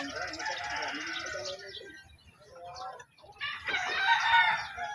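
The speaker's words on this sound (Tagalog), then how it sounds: "Ini ilahang manok Andre bos." Roosters crow loudly and hens cluck nearby at a game farm, with overlapping calls at the start and end and a softer stretch of clucking between.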